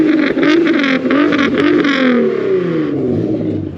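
Nissan GTR arriving at a high-octane dyno day, engine revving hard and accelerating with a loud, rising, rasping roar close by, rev pitch swinging up and down before easing off at the end.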